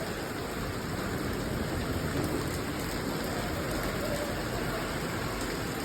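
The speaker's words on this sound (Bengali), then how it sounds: "হঠাৎ করে কি সুন্দর বৃষ্টি" Sudden rain falls steadily on a rooftop during hot weather, a dense, even hiss and patter of raindrops that continues unbroken and fairly close throughout.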